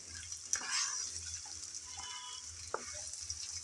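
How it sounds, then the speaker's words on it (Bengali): Eggplant with mustard greens sizzles softly in a pan as it is stirred and fried, faint steady frying hiss punctuated by a few light scraping knocks of the spoon. "এখন বেগুন দিয়ে নেড়ে চেড়ে আবারও ভালোভাবে ভেজে নিতে হবে।"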